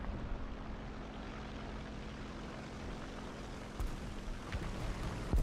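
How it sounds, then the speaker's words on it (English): A distant propeller plane drones steadily in a multiplayer video game, a low continuous hum under faint in-game ambience and a few brief clicks and thumps near the end, with no talking. "There's a plane, so be careful."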